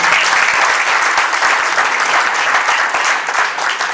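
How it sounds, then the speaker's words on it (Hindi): A company event audience claps loudly for a founder, a dense, even burst of many hands applauding from start to finish, close and full, with no speech. "एक बार विशाल राजवंश जी के लिए जोरदार तालियां।"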